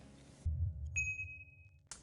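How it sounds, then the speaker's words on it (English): A single clear, bright bell ding rings out and decays smoothly, a notification chime set against a low musical bed that drops away just before it. "It's called the notification bell."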